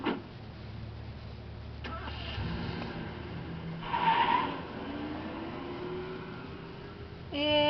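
A car in the video game Death Mark starts up and drives off: a door thud, a rising engine whine and rolling tyre noise under a steady game soundtrack.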